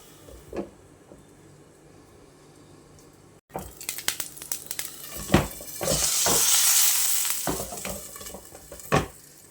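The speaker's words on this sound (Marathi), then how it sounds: "आता झाकण ठेवूया आणि छान दोन्ही साईडनी फ्राय करून घेऊया" Bombay duck tikki frying in a covered pan, a steady hiss that swells loudly in the middle, with scattered sharp pops and clatters of the pan and lid.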